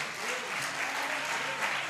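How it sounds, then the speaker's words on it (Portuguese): A church congregation applauds together, a dense, steady wash of clapping that holds evenly throughout with no gaps, close and full, with a faint voice barely present underneath. "Queria que a igreja aplaudisse o Senhor pela vida desses homens."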